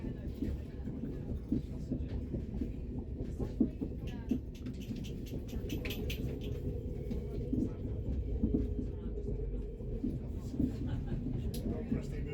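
Rumble and rattle inside a Northern Class 195 train arriving at Manchester Piccadilly, a steady low rolling drone with clicks and squeaks, voices talking over it.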